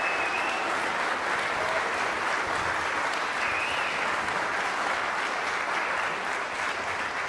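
A concert audience at a college choir and orchestra performance applauds steadily and loudly for the media services crew, a dense, even wash of clapping that holds for several seconds without pause.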